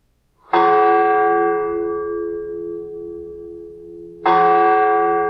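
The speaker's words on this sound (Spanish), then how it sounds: "Las 12 sonaron en el reloj del postigo." A clock bell on a postern tower strikes twice with slow, heavy, ringing tolls. Each loud, resonant stroke hums and fades slowly before the next, and no voices are heard.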